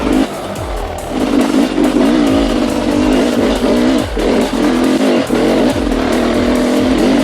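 A 2019 Sherco 300 SE Factory dirt bike ridden over slippery ground pulls in second gear, a loud, continuous engine drone close by with repeated throttle surges and gear changes.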